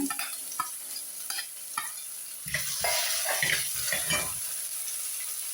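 Crushed garlic and ginger go into hot oil with fenugreek seeds. A few light scrapes and taps come first, then a loud, close sizzle bursts up and keeps crackling steadily with stirring.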